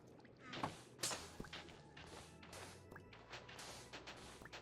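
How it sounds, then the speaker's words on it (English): Glass smashing inside a video game, heard as a loud crash near the start followed by a second sharp break, with scattered clatter and debris sounds continuing over a busy game soundscape. "What is the glass breaking sound?"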